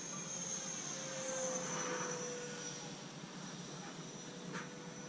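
A small foam board RC jet with a 50mm electric ducted fan makes a fast flyby, its faint, distant whine rising and falling across the sky.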